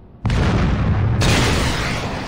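A loud RPG rocket blast from the Saints Row video game bursts in after a brief quiet lead-in, then a heavy rumbling roar that holds steady and swells again midway through the clip.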